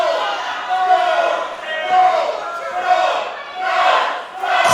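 A wrestling crowd at an indie match roars and chants in loud, surging waves during a chair-throw disqualification. A commentator's voice talks over the noise.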